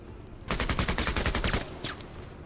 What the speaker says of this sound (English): We're shooting in the smoke.